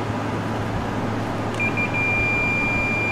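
A continuity tester checks a wire on a synthesizer under repair and gives a single steady, high-pitched beep that starts midway and holds to the end over a low background hum.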